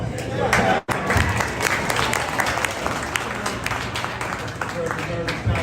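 A crowd claps steadily in a dense burst of applause, with voices mixed in underneath throughout.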